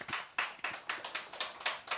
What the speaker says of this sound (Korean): 하늘나라. 아멘. 박수.